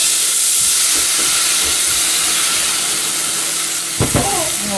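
A tomato mixture poured into a hot pan of Spanish rice sets off a loud, continuous sizzling hiss close by, dense and steady throughout, with a brief clatter of a utensil near the end.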